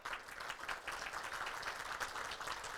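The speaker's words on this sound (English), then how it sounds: "Yes, you should applaud" Banquet crowd applauding, a sustained wash of many hands clapping at an even pace, heard from a distance and fairly quiet.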